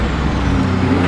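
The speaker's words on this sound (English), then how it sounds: "here comes one Tuff Porsche" A Porsche arriving at the Greenway Cars Under the Stars car show in Sydney, its engine a steady, loud, close rumble that holds evenly throughout with no talk over it.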